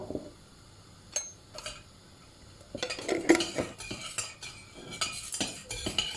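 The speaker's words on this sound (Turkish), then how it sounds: "Şimdi karıştırmaya başla." A spoon stirs popcorn kernels in a pot, giving scattered light scrapes and clinks of metal against the pan that grow busier and more continuous in the second half, close by with no talking.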